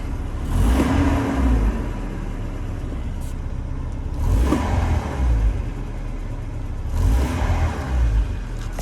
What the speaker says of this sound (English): I'll give you guys a little bit of a rev.